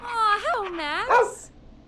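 A rescue dog in the video game Killer Frequency lets out several whiny, yelping barks with rising and falling pitch, loud and close, with nothing else heard.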